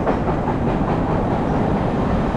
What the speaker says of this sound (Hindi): सामने से ट्रेन आ रही है